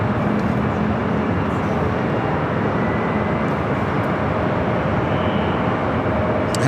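A Boeing 777 jet taxis at LAX airport, giving a steady, loud, continuous engine roar and rumble that holds level throughout, with no talking over it.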